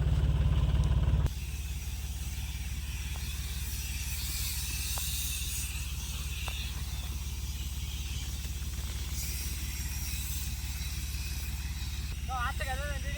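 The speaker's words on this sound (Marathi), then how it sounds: "पाचशे चाळीस आर पी एम चालू आहे" A tractor runs at 540 RPM PTO speed to power a crop sprayer, making a steady low engine drone with a constant hiss throughout, close and unchanging, with brief clicks and a faint high squeal near the end.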